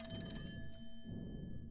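A telephone rings in the Clover Pit video game, a bright electronic bell trill that sounds for about a second and then cuts off, leaving a faint steady tone.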